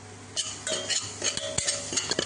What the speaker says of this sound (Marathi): आता जे वाटण केलेलं होतं ते आपण टाकूयात आणि परतून घेऊयात